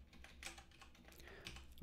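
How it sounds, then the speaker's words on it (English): Quiet tapping on a computer keyboard while coding during a livestream, a run of soft irregular key clicks heard close up with no voices. "Trying to type without being able to see it."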